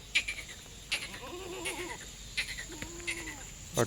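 Pregnant Kathiawari goats bleat a few times, short wavering calls close by, with sharp knocks and faint background noise between them.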